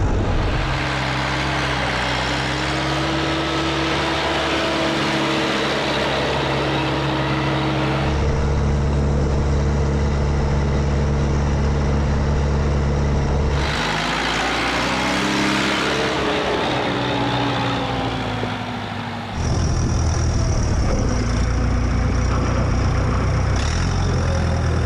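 A Perkins 3.9 four-cylinder diesel in a Massey Ferguson 270 tractor runs loudly at close range, holding steady tones at several engine speeds and revving up and down between them.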